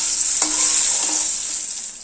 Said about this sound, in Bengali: গ্যাসের ফ্লেম মিডিয়ামে দিয়ে বেগুনগুলোকে 30-40 সেকেন্ড ভেজে নেব